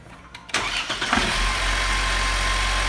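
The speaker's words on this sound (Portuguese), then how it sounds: "dar a primeira partida do dia e ver se o barulho realmente parou" Mercedes-Benz M271 engine, as fitted to C 180/C 200/C 250/SLK models, cranks briefly and fires on the first try, then settles into a smooth, steady idle recorded close up.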